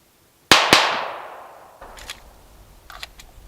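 Unsuppressed Federal 9mm subsonic round fired from a Glock 34 at an outdoor range, two sharp loud cracks close together with a long decaying echo, followed by faint scattered clicks.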